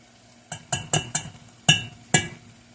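Minced garlic being added to a cooking pan, a series of about six sharp clinks and scrapes of a utensil against the pan at irregular intervals, close and clear without talk.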